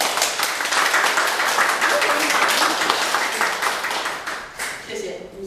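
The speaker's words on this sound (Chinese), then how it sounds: "给我们苏文社长一个热烈掌声" Applause for a club president at a gathering, a loud crowd of many hands clapping rapidly and steadily, then fading toward the end as a voice starts speaking.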